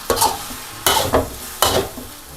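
Glass noodles toss with vegetables in a hot pan, three distinct scraping stir strokes about every three-quarters of a second over a soft background sizzle, close up and with no one talking.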